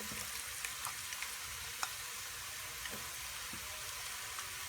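Long-cut ginger frying with golden onions in a pan for chicken pulao biryani, a faint, even crackling sizzle with a few light stirring clicks, alone.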